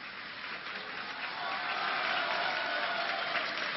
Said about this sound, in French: On applaudit surtout celui qui s'en va